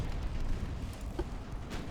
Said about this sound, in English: 5 torpedoes hit the target.